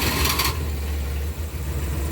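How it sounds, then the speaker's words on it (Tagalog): Multicab engine running at a steady low idle, a loud close rumble, with a brief burst of higher noise at the very start as it settles into a constant drone. "so paandarin natin yung ating makina"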